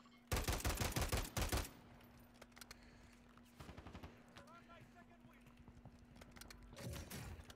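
Enemy player gunfire in an online shooter: a rapid, loud burst of automatic shots near the start, then scattered softer shots and a second burst near the end, with talk in between.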